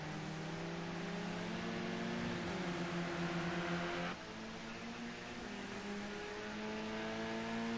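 Touring race cars in a modern TCC round at Ruapuna Park, engines holding a steady loud drone with shifting pitch as they change gear around the circuit, one car's note dropping sharply partway through.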